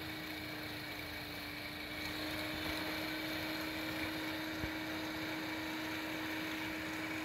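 A three-phase motor driven by an Arduino Mega inverter runs at its top speed, giving a steady, continuous hum with a fixed tonal whine and faint fan-like hiss throughout.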